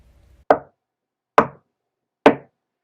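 Three loud, sharp knocks on a door land about a second apart, each short and dry with a quick decay, against near silence during a puppet theatre performance of Macbeth.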